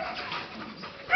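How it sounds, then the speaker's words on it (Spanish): A newborn puppy from a fresh litter gives soft, faint whimpers and a brief higher squeak near the end, close by with no talking. "A ver, tres perritos nuevos."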